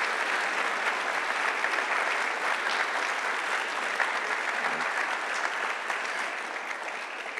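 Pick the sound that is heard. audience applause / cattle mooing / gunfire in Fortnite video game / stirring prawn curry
audience applause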